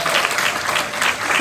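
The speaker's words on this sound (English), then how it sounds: "Give another round of applause," Steady, dense audience applause at a live conversation event, a continuous wash of many hands clapping at even volume throughout the brief stretch.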